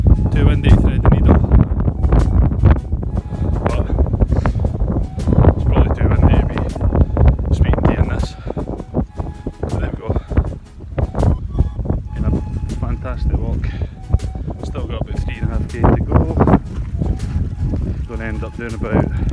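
Strong gusting wind buffets the microphone high on Beinn Narnain, a Scottish mountain, with loud continuous roaring and rumbling throughout and a voice talking over it at times.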